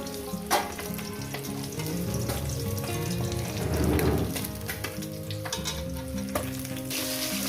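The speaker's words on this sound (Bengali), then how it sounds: "এই মাছগুলো আমার ভাজা হয়ে গেছে" Catla fish frying in hot oil for an Eid-style catla posto dish, a dense, steady sizzle and crackle that runs loud and close throughout, with occasional utensil taps and a brief swell near the middle, no talking.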